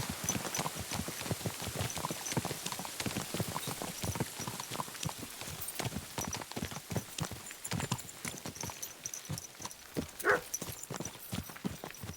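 Horse hooves clip-clop steadily on a road in the medieval video game Kingdom Come: Deliverance 2, a brisk rhythmic clatter that stays close and fairly loud, with a brief neigh-like call near the end.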